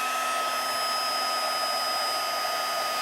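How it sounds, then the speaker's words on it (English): A heat gun blows steadily while melting embossing powder on a stamped card, a constant loud whooshing hum with a fixed tonal whine and no pauses. "I'm going to heat emboss this one."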